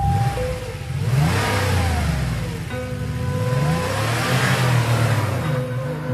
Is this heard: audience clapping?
no